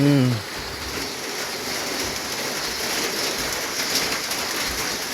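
Rain pours steadily during a storm over rice paddies in Laos, a constant broadband hiss of drops on surfaces, close and even; a brief voice sounds at the very start before the rain continues alone.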